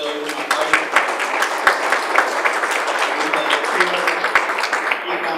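Lively applause from an audience at a panel event on Argentine elections, dense rapid clapping with sharp individual claps standing out and some voices mixed in.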